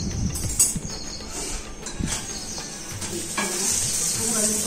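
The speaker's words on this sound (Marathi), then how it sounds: "छान अशी भाजून घ्या, मस्त कडक होते बा, आवाज येतो का" A cheese roti roll crisps in ghee on a hot pan, making a continuous close crackling sizzle with a few brief scrapes and bumps near the start, no voices.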